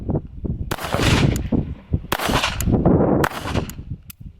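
Rapid, loud shots from a Beretta Bobcat Inox .22 LR pistol firing Winchester ammunition, several sharp reports in a steady string with ringing between them and no talking.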